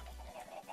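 Minecraft chickens clucking in a short burst of low, soft game-animal sounds, fairly faint and alone with no talking.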